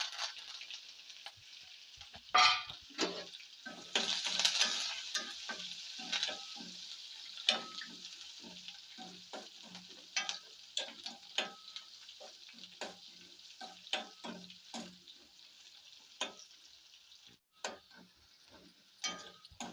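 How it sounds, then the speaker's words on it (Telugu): Tempering of mustard seeds, cumin, dried red chillies, onion pieces and curry leaves for pappucharu crackles in a pan, sharp irregular pops and spits over a soft continuous sizzle, close and fairly quiet, with no talking. "ఎండుమిర్చి కొంచెం చిటపట్లాడిన తర్వాత ఆవాలు జీలకర్ర చిటపట్లాడి ఎండుమిర్చి కలర్ వచ్చాక ఉల్లిపాయ ముక్కలు వేసుకుంటున్నానండి కరివేపాకు"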